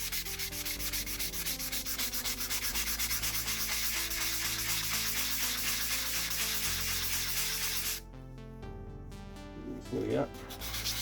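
Someone hand sands a scratched composite stone surface with 600-grit sandpaper, making a loud, continuous rhythmic rubbing that runs for about eight seconds, then a few brief scrapes and a soft voice.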